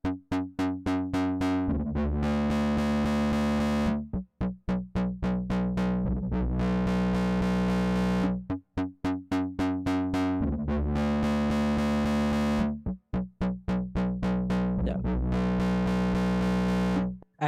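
An FM bass line from an Operator synthesizer plays alone: a loud, buzzy, distorted riff of short repeated notes, looping in a steady rhythmic pattern.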